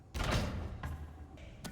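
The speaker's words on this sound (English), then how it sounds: "hear the thump, that means Bonbon has hit the door and it is now safe to open it" In the video game FNAF Help Wanted 2, the animatronic Bonbon bumps against the office door, a heavy close thud followed by a few softer knocks and bumps spaced across under two seconds.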